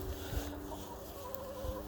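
A hen clucks softly and faintly over steady outdoor background noise in a snowy yard.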